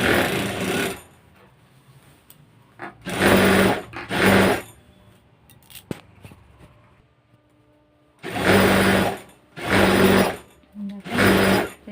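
Domestic sewing machine stitching a two-inch casing for elastic on a pair of pants, running in several loud bursts of rapid stitching separated by quiet pauses, about six runs in total.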